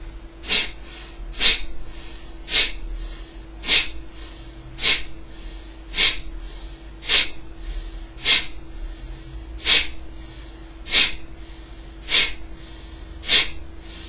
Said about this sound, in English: it's a sudden breathing out